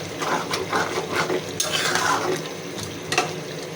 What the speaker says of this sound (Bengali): অল্প অল্প জাল দিয়ে একটু একটু করে কষাচ্ছি